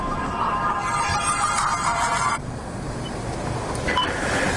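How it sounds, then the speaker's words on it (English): Phone ringtone from an incoming call, a steady repeating tonal pattern for about two seconds, heard outdoors over continuous wind and traffic-like rumble while riding a Ninebot One C+ electric unicycle. "Oh, getting a phone call."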